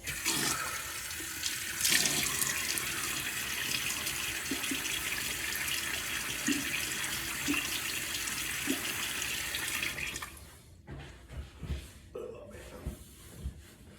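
A bathroom tap runs steadily while a face is wetted for a shave, a loud continuous rush of water for about ten seconds, then it cuts off, leaving drips, splashes and faint handling sounds.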